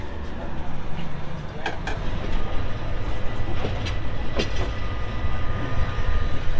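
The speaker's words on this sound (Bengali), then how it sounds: "ফাইনালি ঠিক 11টা 25 মিনিটে, অর্থাৎ 10 মিনিট লেটে আমাদের ট্রেন ছেড়ে দিয়েছে কমলাপুর স্টেশন থেকে" Jayantika Express pulling out of Kamalapur station in Dhaka, bound for Sylhet, heard from on board as a continuous low rumble with faint rhythmic clatter and light clicks. A voice may be faintly present under the noise.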